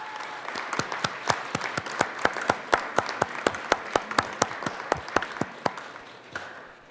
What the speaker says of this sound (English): Can we please give a round of applause for our guests?